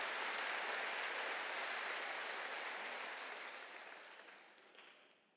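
A church congregation at a Wednesday service breaks into dense, sustained applause that stays full for several seconds and then gradually fades away.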